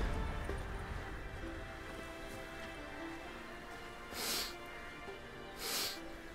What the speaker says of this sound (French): elle renifle